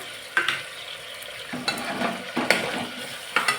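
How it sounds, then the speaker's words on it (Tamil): Chicken gizzard masala frying in a pan and being stirred, with a steady sizzle broken by several sharp scraping strokes of the spoon at irregular intervals, close and clear. "நல்லா கிண்டி விட்டுங்க"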